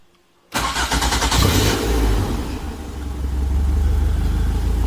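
A Caterham Seven SV Roadsport engine cranks and catches after a moment of quiet, flares briefly, then settles into a steady, close, throbbing idle.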